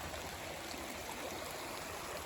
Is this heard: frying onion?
no